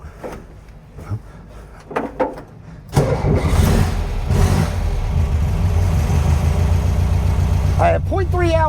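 The engine of a 1964 VW Karmann Ghia outlaw build starts with a few faint clunks, then catches and settles into a steady, close idle that runs loud and even to the end, with no voices.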